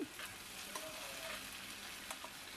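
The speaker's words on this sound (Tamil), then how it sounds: "லாஸ்ட்டை வந்து அப்பளத்தை வந்து ஃப்ரை பண்ணிகிட்ருக்கேன்" Appalam (papadum) fries in hot oil in a pan, giving a soft, continuous sizzle and crackle with a few sharper pops, close and fairly quiet, with no speech.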